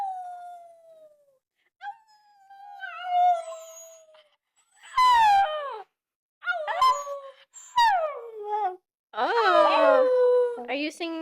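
Pet dog howling indoors in a series of drawn-out, wavering howls and yips separated by pauses, fairly close, with a person's voice coaxing between them.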